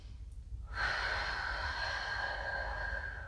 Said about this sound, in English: One more big inhale.